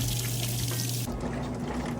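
Water pouring steadily into a Kenmore stacked laundry center washer as it fills, a continuous close rushing that alone fills the clip, with a slight change in tone partway through.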